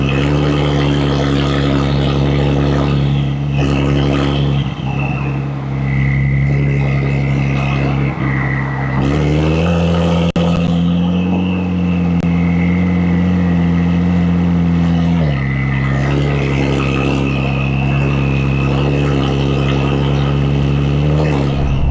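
A tuned Porsche 992 cruises at about 68 mph in eighth gear, its engine droning steadily and loudly with a few slight shifts in pitch. Someone talks at moments over the hum.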